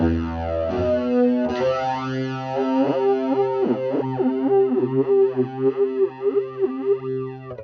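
Distorted electric guitar run through a flanger pedal, sweeping jet-like whooshes rising and falling over sustained chords and then rhythmic picked notes, close and steady for several seconds without speech.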